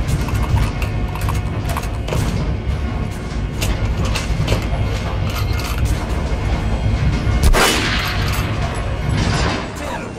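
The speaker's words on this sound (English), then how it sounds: "Now shoot the armored dummy." Steady, dense gunfire rings out in Metro Last Light as shots hit an armored training dummy, loud and continuous with a sharper blast near the end.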